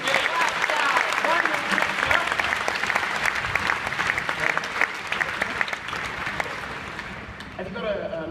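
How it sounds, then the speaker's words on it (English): Sustained applause from a crowd at Gadget Show Live 2016 at the NEC, steady clapping for several seconds that tapers slightly near the end, with some voices mixed in. "Another round of applause for Vicky, please."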